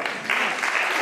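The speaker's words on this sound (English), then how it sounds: "Yes, Nancy, can we clap?" Brief applause from a conference audience at a Rufford conference in Kenya, a dense, steady patter of many hands clapping in a hall.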